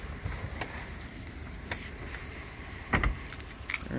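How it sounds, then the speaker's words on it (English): Keys jangling as they are pulled from the ignition of a 2003 GMC Yukon XL fitted with a remote start system, several short metallic clinks near the start and a louder rattle toward the end. "take the keys out"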